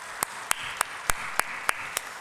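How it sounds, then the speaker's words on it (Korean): A church congregation at the end of a Sunday worship service claps in slow, regular unison, seven sharp even beats over a soft background murmur. "박수를 응원 올려드리겠습니다."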